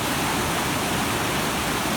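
A waterfall and rushing river pour with a loud, dense, steady roar of broadband white water, unbroken and close, with no voices.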